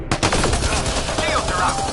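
Dense, loud gunfire from the Mass Effect video game, a rapid burst of overlapping shots filling a short moment.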